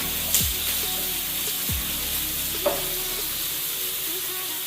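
Two small chopped onions fry in hot oil with an even, steady sizzle, punctuated by a few soft thumps and scrapes as they are stirred, and no one talking.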